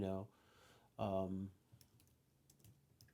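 Faint, scattered keyboard clicks from typing on a computer while editing in WordPress, following two short bursts of talk.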